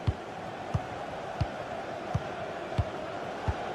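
A football video game crowd murmurs as a steady background roar, punctuated by soft, regular thuds about every 0.7 seconds.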